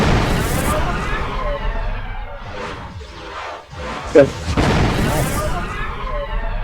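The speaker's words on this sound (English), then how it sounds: "it should launch the plasma cannon" Plasma cannon fired in a Minecraft Alien vs Predator mod, a loud rushing whoosh with a short burst partway through, over constant game ambience while someone speaks briefly.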